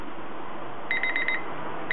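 A timer alarm set for one second goes off over a steady hiss: a rapid burst of about seven high electronic beeps, then a single beep after a brief pause.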